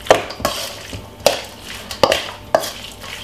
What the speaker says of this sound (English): give it a lovely mix